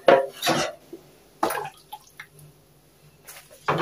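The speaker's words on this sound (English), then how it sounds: "I'm going to add some water" Water added to a pot of boiled meat stock with red bell pepper for ogbono and okro soup, a few short splashes and drips with light clinks of the pot, close and brief.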